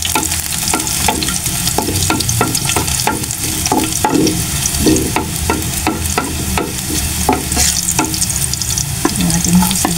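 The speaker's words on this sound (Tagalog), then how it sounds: "Yan, mainit na po yung ating kawali. Igigisa ko na po siya. Unahin po natin yung ating bawang." Garlic sautéing in a hot kawali for menudong giniling, a loud, steady sizzle with a rapid, regular run of spatula scrapes and clicks throughout, no voices.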